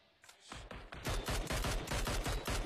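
Automatic rifle fire in the battle royale game PUBG bursts in rapid, rhythmic volleys, loud and close, building from sparse shots into a dense continuous spray.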